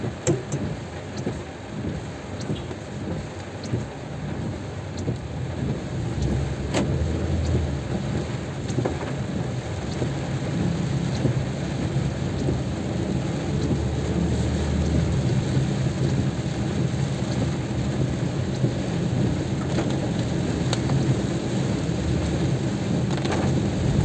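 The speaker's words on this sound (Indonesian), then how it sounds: "Hujan deras di bulan Februari" Heavy February rain pours steadily in a residential area of student boarding houses in Sleman, a dense loud hiss building after the first seconds, with low rumbles of thunder rolling underneath.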